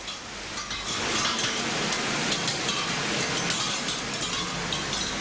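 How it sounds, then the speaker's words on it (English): Dense, rapid pattering of hard hail hitting window panes during a hailstorm in western Singapore, a constant loud clatter with scattered sharper ticks and no voices. "Some were obviously shocked by the sudden sounds of hail hitting their window panes."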